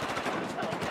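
Rapid automatic gunfire in Battlefield 4, a dense stream of loud shots rattling continuously for a second with no pause.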